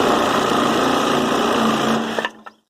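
A jigsaw cutting wood for a garden bed, a loud, close, buzzing whine running steadily before the blade stops with a couple of clacks and falls silent.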